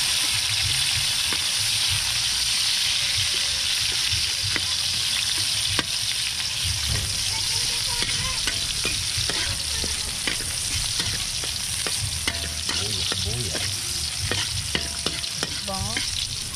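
Garlic and onion sizzling as they are stir-fried, a loud, continuous frying hiss with frequent scraping stirs and clicks of the utensil, close up with no talking.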